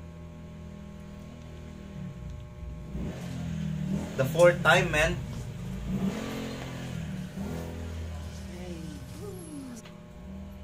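A motorcycle passes through an alley, its engine swelling into a short, louder revving burst in the middle before fading away, under a faint background hum and a man's speech.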